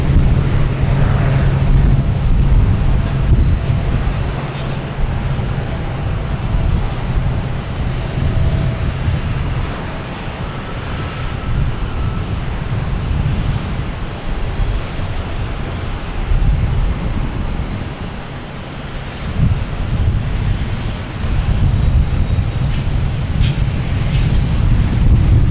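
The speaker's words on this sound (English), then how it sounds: "The next taking off is Allegiant Airlines heading to Knoxville, Tennessee, an A320, flight 3044." Allegiant Airlines Airbus A320 taking off at Boston Logan Airport, a steady loud jet engine roar with heavy low rumble sustained throughout, buffeted by wind noise on the microphone.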